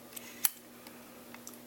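A vintage Canon TX film SLR camera's advance lever is worked, giving one sharp mechanical click up close with a few faint ticks and rattles around it in a quiet room.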